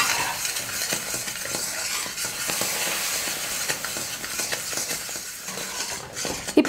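Thick Mysore pak mixture stirred in a pan with freshly added oil, a continuous soft sizzle under repeated scraping strokes of a ladle and faint clinks of metal, with no talking.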